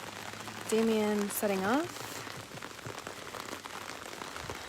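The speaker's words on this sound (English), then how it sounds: "Let's get out of the rain." Rain falls steadily at an outdoor tribal council area, a continuous hiss and patter with a brief voice and a short rising, tonal whoop over it early on.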